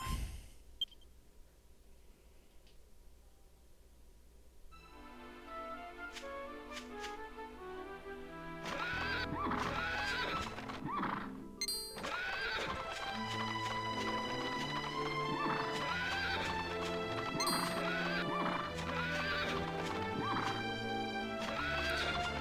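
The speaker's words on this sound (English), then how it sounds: "So the little horse sound is the horse neighing." A horse neighs in the video game Dragon Quest VIII, a short game sound effect that comes before bright, busy game music carrying on through the rest of the stretch.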